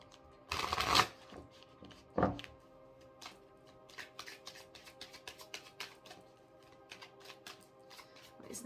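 Deck of tarot cards being shuffled, a loud riffling burst near the start and another shorter one soon after, then steady soft flicking and patter of cards handled close by, no talking.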